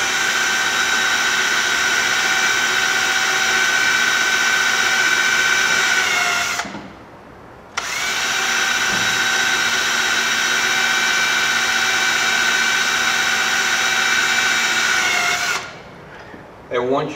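A power drill bores holes around the bolt pattern of a gimbal ring, whining at a steady high pitch for long runs, cutting out briefly between two holes, close and loud.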